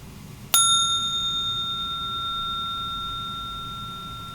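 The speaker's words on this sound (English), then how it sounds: "I'm going to sound the deconstructed, surprisingly healing candlestick for you" A deconstructed metal candlestick is struck once and rings on with a pure, bell-like shimmer, slowly fading over several seconds against faint background hiss, with no talking.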